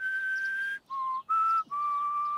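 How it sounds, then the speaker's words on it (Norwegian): A person practising whistling produces clear, steady whistled tones in a few held notes at shifting pitches, separated by brief gaps, close and fairly loud with no talking. "En må øve mye for å kunne plystre."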